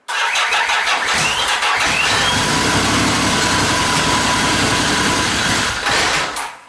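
A Yamaha XS850 motorcycle engine, just fitted with E3 carburettors, starts up and runs with a steady, loud, close rumble for several seconds before cutting off, with no talking.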